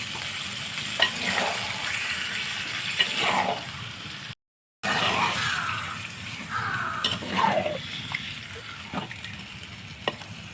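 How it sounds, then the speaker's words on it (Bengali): Spice-rinsing water is poured into a hot cooking pot of handi chicken malai curry, giving a steady sizzling, bubbling wash of sound that swells in bursts, with a brief gap partway through. "তো এই মশলা ধোয়া জলটা আমি দিয়ে দিচ্ছি।"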